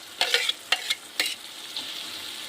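Ground paste of tomato, green chili and peanuts fries over medium flame as a spoon stirs it in the pan. A close hiss runs throughout, with a few quick scraping strokes near the start.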